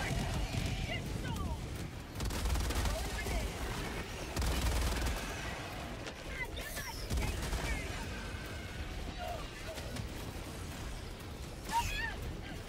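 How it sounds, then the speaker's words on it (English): Cluster bomb strike in the video game Helldivers 2, heard as repeated heavy blasts and rumbling bursts at moderate distance, overlapping with ongoing gunfire and other combat noise while players talk. "Oh my god, they sent another cluster strike."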